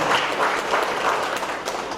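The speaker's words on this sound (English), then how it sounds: "A big round of applause to Tiruvalluvar, 2000 years before." Applause from a seminar audience, a loud and steady burst of many people clapping close together, filling the short moment without any talk.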